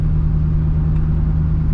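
A loud truck with a rebuilt transmission drives along, its engine giving off a steady, heavy low rumble and drone heard from close by.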